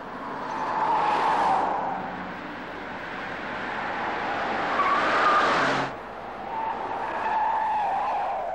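A Ford test car drives fast on a European proving ground, its engine and tire roar swelling past closely twice with a sharp cutoff, then continuing more steadily, loud and alone without talk.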